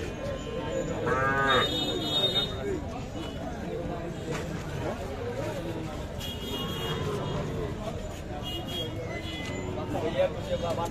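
Sahiwal bull cattle mooing at a busy cattle market, one clear loud low moo early on amid constant crowd chatter and people talking nearby.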